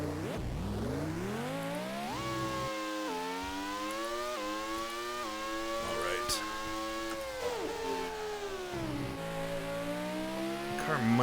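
A race car engine in the Grand Prix II racing game revs and whines, its pitch climbing and dropping through gear shifts as the car struggles to get going after a spin, loud and continuous.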